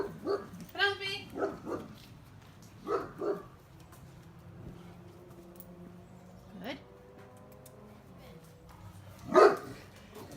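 Penelope, a dog in a training lesson, lets out several short sharp barks and yips in scattered bursts, close by, with people talking softly between them.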